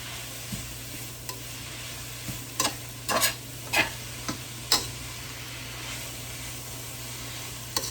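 Burgers frying in bacon fat with onions in a pan: a faint, steady sizzle broken by a handful of sharp spatula clicks and scrapes, with no voices.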